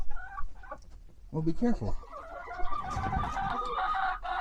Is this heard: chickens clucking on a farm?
yes